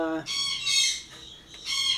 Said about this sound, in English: oops, my birds are screaming